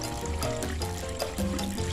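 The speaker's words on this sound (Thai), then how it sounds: "เทน้ำใส่ไว้นะคะ น้ำแล้วที่เราเตรียมไว้นะคะ ประมาณ 20 ลิตรนะคะ" About 20 liters of prepared water is poured into an old broken cooking pot used in a garden to mix fertilizer for colored caladium plants, a close, continuous splashing pour with gurgles.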